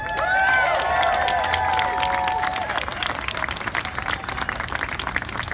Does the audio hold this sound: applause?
yes